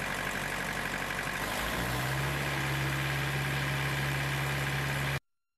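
A refrigeration unit's engine idles steadily with a constant low hum, then shifts up to a slightly higher, steady high-speed drone around two seconds in, running loud and close with no talking.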